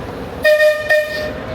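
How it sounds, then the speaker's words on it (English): Theme park train at Blackpool Pleasure Beach sounds two loud, close horn toots over a steady engine rumble, with no talking. "Okay, we got on the train."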